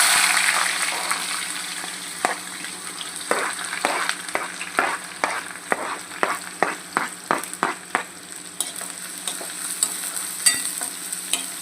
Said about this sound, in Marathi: आता मी यात कांदा घालते.